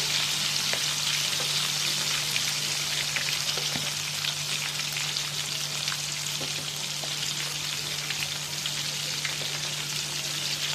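Mutton chops frying in a pan make a dense, even hiss of hot oil that carries on steadily throughout, with scattered faint pops and a low steady hum beneath; no speech.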